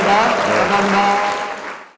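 A visiting group applauds at the Honam Christian museum of Jeonju University, a brief, even patter of many hands with faint voices mixed in, fading out quickly at the close.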